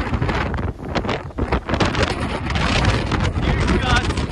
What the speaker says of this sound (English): Huge gust, huge gust.